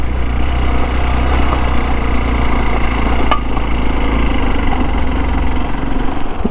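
A vehicle engine labors hard on a steep climb at an adventure park, a loud, close, steady drone with a rough idling rumble and no speech over it.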